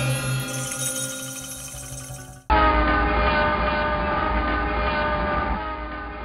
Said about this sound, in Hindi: ये है मेलसी रेलवे स्टेशन, जो तकरीबन 100 बरसों से यहीं वाक़ है